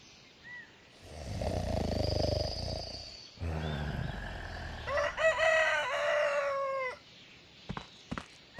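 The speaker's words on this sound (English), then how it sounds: "Thank you, Rooster." A rooster crows in the Recycling Center Simulator video game, one long drawn-out cock-a-doodle-doo that rises and breaks into a strained call, fairly loud and close, with no speech, followed by a few faint clicks.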